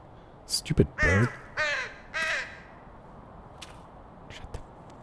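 Hoarse crow caws in the horror game The Cursed Forest, three loud drawn-out calls in quick succession after a short muttered voice, then fading to quiet rustling.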